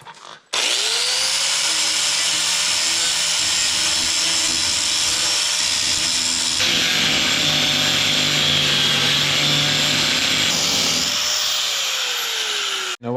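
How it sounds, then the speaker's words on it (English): An angle grinder grinds out a cracked weld in a workshop, a loud continuous high whine that starts abruptly, holds steady with a pitch shift midway, then cuts off near the end. "Now we got to grind out the crack."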